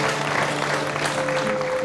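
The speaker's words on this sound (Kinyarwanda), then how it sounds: "tumwishimire tumukomere amashyi." An audience at a wedding-request ceremony claps continuously, a dense, steady applause that fills the whole short clip at close range.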